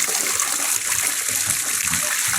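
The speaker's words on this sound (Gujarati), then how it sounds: "મિત્રો, આપણે હવે આજે આ પંપ હતો તે પંપ પાણીથી ભરાઈ ગયો છે." Water from a motor pours steadily into a sprayer pump tank in a continuous close gushing rush with no pauses.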